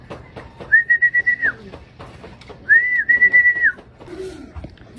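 Backyard pigeons at a racing-pigeon training loft make two drawn-out, steady whistling calls close by, each lasting under a second, separated by a pause, with a softer low note at the end.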